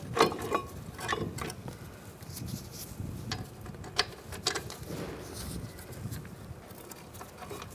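Ratchet clicking while starting the brake caliper bracket bolts on a 2007-2013 Mini Cooper front brake job, quick faint ratcheting bursts over ongoing mechanical handling noise with no speech.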